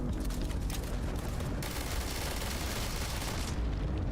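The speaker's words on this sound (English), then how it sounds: "Well, I'm gonna shoot it." Sustained, dense gunfire from a weapon in the sci-fi video game Starfield, played on Xbox Series X, rattling continuously for about four seconds with a heavy low rumble and no talk over it.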